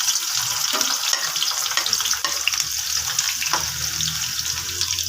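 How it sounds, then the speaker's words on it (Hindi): Onions dropped into hot oil for daal sizzle loudly and continuously at close range, with soft stirring scrapes mixed into the constant hiss. "अब इसमें मैं प्याज ऐड करती हूँ।"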